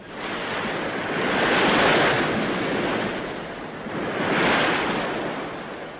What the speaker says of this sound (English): Out there is the sea.